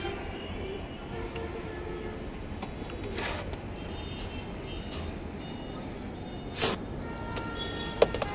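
Racing pigeons in a loft, including a pair of tiger-patterned birds: soft, low cooing under a quiet background, with a few sharp clicks and brief rustles scattered throughout.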